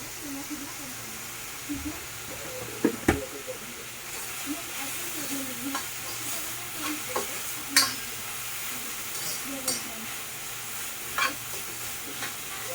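Salted vegetables being sautéed in a pan hiss softly and steadily, broken by intermittent clinks and scrapes of stirring, while someone talks throughout.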